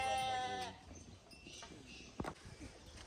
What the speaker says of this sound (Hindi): बकरी के बच्चे और जो भेड़ के बच्चे होते हैं ना छोटे छोटे